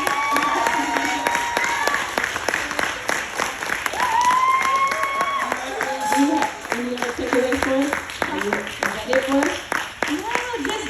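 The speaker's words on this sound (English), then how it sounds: "So everybody give a round of applause for Brittney today." An audience claps through a round of applause at a Bay Area talk on inclusivity and employee resource groups, dense and steady throughout, with some cheering and voices mixed in.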